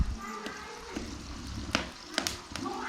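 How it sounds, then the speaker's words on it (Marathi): Pieces of ripe jackfruit fry in oil in a kadhai, a soft crackling sizzle with sharp pops and clicks scattered through it, fairly close and moderately quiet. "तुम्ही पण घराकडे असे तयार म्हणजे गरे तळून बघा."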